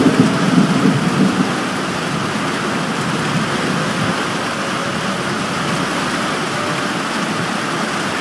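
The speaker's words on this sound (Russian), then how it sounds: "Вот такая молния." Thunderstorm with heavy rain pouring steadily and a loud roll of thunder rumbling near the start, the downpour continuing as a dense, unbroken roar with no talk.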